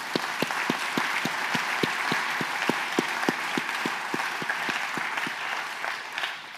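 An audience applauds at the close of a German-language panel discussion on digital sovereignty in IT procurement: steady, dense clapping for the full stretch, threaded with sharp, evenly spaced accented claps.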